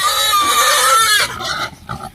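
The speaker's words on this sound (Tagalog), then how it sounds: "alagang baboy na to" A farmed pig on a piggery squeals loudly and shrilly up close for about a second, followed by shorter, fainter grunts and squeals.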